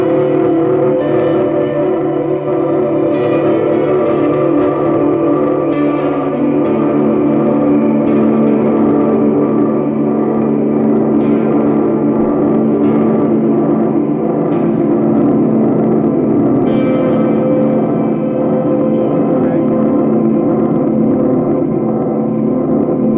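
A sustained, shimmering guitar drone from a reverb pedal's infinite sustain holds steady and loud, swelling with ambient wash while soft new notes from a second reverb ring faintly over it.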